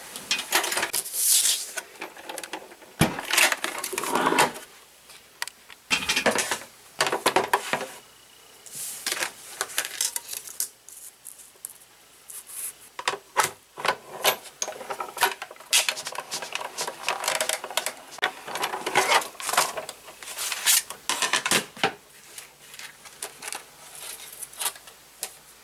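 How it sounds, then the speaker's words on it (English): A Cuttlebug die-cutting machine cuts card with a stitched border die, producing a long run of close, uneven plastic clicks, ratcheting creaks and rattles as the plates feed through the rollers. "I'm going to grab my cuddle bug, and I'm going to cut this down using a stitched border die"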